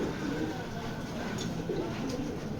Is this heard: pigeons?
yes